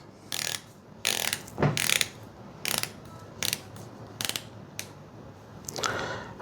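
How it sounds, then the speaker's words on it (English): Titanium unidirectional 120-click bezel on a Luminox Mil-spec XL3359 diver watch being rotated, with close, crisp bursts of rapid ratcheting clicks separated by short pauses. "unidirectional 120 click rotating bezel"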